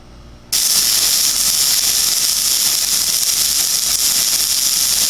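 Welding a metal support brace back onto a go-kart motor plate produces a steady, loud crackling hiss that starts abruptly after a brief quiet moment and holds evenly to the end.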